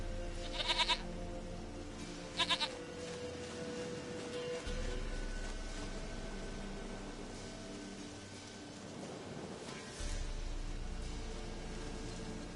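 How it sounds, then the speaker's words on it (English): A goat in The Witcher 3 lets out two short, shrill bleats a couple of seconds apart over a quiet ambient background. "Goat of mine, dearest,"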